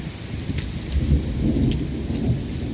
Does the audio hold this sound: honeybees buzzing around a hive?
no